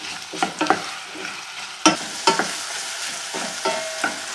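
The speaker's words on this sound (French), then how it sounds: "pendant que nos oignons et nos pommes rissolent" Onions and potatoes sauté in butter over fairly brisk medium heat: a soft sizzle broken by repeated scraping stirs of a utensil in the pan, close and without speech.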